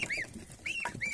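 Ducklings and goslings on a farm, warming in the sun, give repeated high, upward-sweeping peeps, several quick calls close by over a faint, quiet background.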